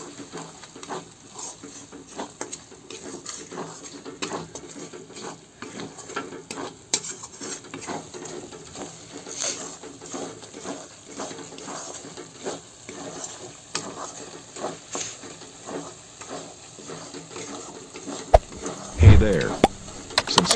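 Spices sautéing in a pan for masala baingan, a continuous sizzle under frequent scraping and stirring of a utensil, close and fairly loud, ending in a sharper clatter.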